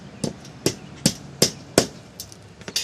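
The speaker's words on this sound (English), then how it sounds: "you hammer it in that hole" Hammer driving a fluted nail with a washer into a stone veneer wall: five sharp, evenly spaced blows close by, followed by a few lighter taps.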